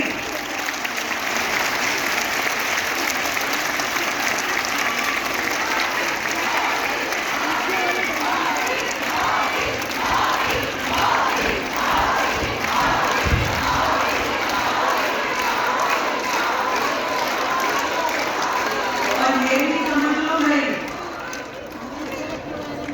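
A large crowd at a political rally for the BJP claps loudly in sustained applause, with scattered cheers and chatter mixed in, fading slightly toward the end.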